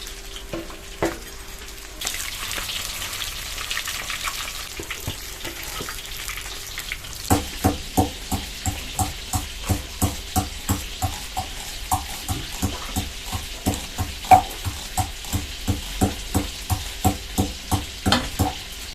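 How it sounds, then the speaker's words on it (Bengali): Tilapia pieces fry in oil during village-style cooking, with a constant sizzle throughout. Partway through, regular scraping strokes from stirring or turning join in and repeat in a steady rhythm until the end. "মাছগুলো সব ভেজে নিয়েছি, এক থালা হয়েছে।"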